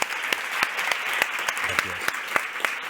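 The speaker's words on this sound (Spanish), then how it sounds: "Un fuerte aplauso para Álvaro Cervantes." A studio audience applauds to welcome a guest, Álvaro Cervantes, with a few sharper individual claps standing out from a steady wash of clapping, and a faint voice speaks briefly underneath.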